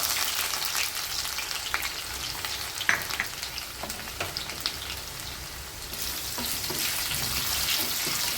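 Chopped garlic frying in hot oil for a Kerala-style puli inchi, giving a steady, dense sizzle that runs unbroken throughout with a few brief clicks of a spoon against the pan.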